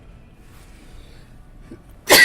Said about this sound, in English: I am a double-digit sneezer though, so this might be for the next little while.